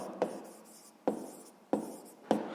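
Pen writing out a math solution on paper: four distinct scratchy strokes at uneven intervals, close and fairly quiet, with no talking.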